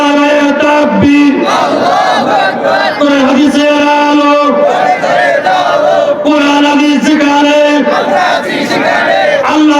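A large crowd at a religious gathering roars a takbir response in unison, loud sustained massed shouting that rises in repeated waves, close and dense throughout.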